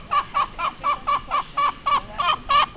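Backyard chickens clucking close by in a fast, regular series of about ten short, nasal clucks, with no talk over them.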